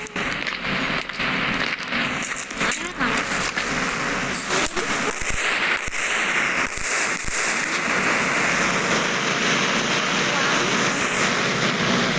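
Sharp crackling bursts of firecrackers pop irregularly over a dense, noisy background in the video game Indian Bike 3D, some loud and close, others scattered.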